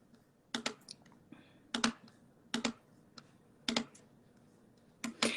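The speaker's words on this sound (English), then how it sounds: "I hear you typing." Quick clusters of keystrokes clack on a computer keyboard, short bursts of typing separated by brief pauses in a quiet room.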